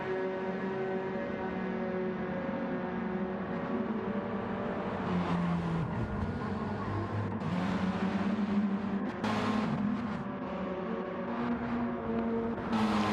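Race cars lapping in a one-hour endurance race in a racing video game, a loud continuous engine drone with shifting pitches as cars pass and rev.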